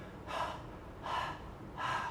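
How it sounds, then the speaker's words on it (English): Three tired, breathy pants in an even rhythm, each a soft rushing exhale, close and quiet with no talk. "Hannah was so tired, so she was panting already."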